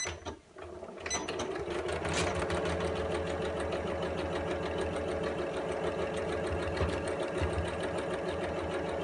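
A sewing machine stitches fabric for a storage caddy, running in a steady continuous whir close up after a short start, with a faint rhythmic mechanical clatter throughout.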